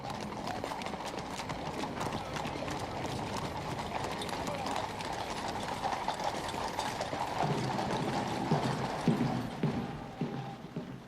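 A horse-drawn carriage in a royal state procession, its hooves clip-clopping in a steady rhythm at a distance along with the rumble of wheels, while a voice speaks over it.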